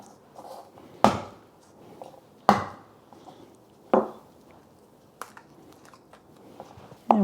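Garlic cloves chopped with a knife on a cutting board: five or six sharp, spaced knife strikes, close and fairly quiet, with faint rustling between them.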